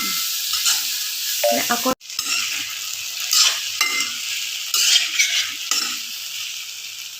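Tomatoes sizzle steadily in a hot pan for a stuffed idli sambar, with a spoon stirring and scraping through them, close and loud throughout, plus one brief spoken word.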